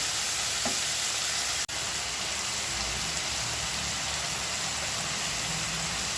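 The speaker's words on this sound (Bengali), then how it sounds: "চিংড়ি মাছ এবং পেঁয়াজ ভেজে নিচ্ছি" Local shrimp and onion fry in a pan, a steady loud sizzle and crackle that runs unbroken apart from one brief dropout, heard close with no talk.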